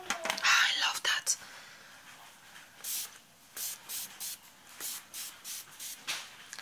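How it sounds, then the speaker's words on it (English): Repeated short hissing bursts of a spray bottle spraying directly onto a watercolor paint palette, about a dozen quick spritzes in an uneven rhythm, fairly close, with faint whispery noise between. "So I'm basically spraying directly to my palette."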